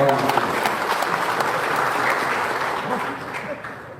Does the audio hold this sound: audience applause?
yes